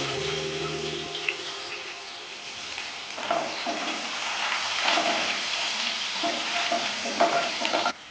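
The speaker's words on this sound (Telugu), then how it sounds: "రెండు టేబుల్ స్పూన్ ఆయిల్ వేసుకుందాం ముందుగా జీలకర్ర ఆనియన్స్ వేసుకోవాలి" Cumin seeds and onions frying in two tablespoons of hot oil, a steady close sizzle with stirring scrapes growing busier partway through, no voices over it.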